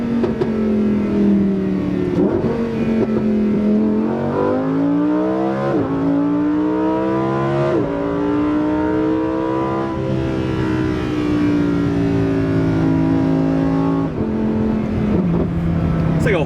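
Naturally aspirated Lamborghini Huracan Performante engine revving up and down through rising and falling pitch sweeps, loud and close, with a steady roar throughout and a voice talking faintly underneath.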